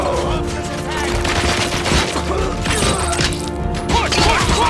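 Covering gunfire crackles in a chaotic video-game firefight, loud and dense, with overlapping shots, impacts and mechanical clatter over a constant roar of battle noise and faint voices in the mix.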